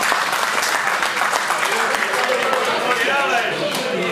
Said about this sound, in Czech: Potlesk Alešovi.